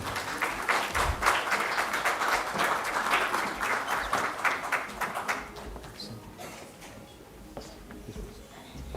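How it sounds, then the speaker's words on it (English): An audience applauds at a ceremony marking the Nobel Peace Prize anniversary, dense clapping holding steady for about five seconds before thinning into scattered claps and faint murmur. "on stage with a huge round of applause."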